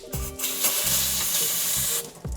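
Brake cleaner sprayed onto a pressure washer O-ring from a Kranzle 1622 unit, an up-close, sustained hissing spray lasting about two seconds, with brief handling clunks at the start and end.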